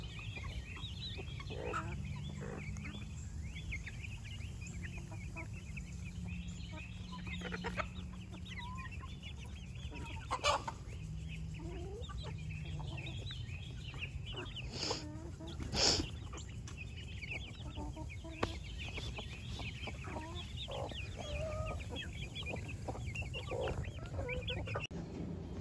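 Chickens, including a buff Polish and broody hens, cluck and murmur softly throughout a coop, with scattered louder calls and small rustles over a steady low hum.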